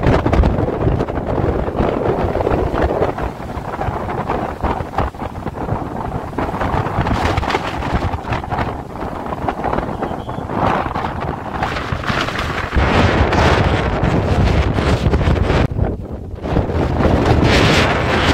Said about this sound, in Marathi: या झाडांमधून जो वारा वाहतो तर त्याचा तुम्ही आवाज ऐकू शकता